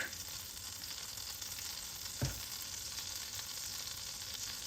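Olive oil sizzles steadily in a greased pan, a continuous close hiss with one brief clunk partway through and no talking.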